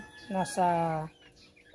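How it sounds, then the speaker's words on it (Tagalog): A large molting Black Australorp hen of an Italian line, about 2 kilos, gives a short, close two-part cluck, with a quiet voice nearby. "So yan po yung Black Astrolorp na hen, inahin."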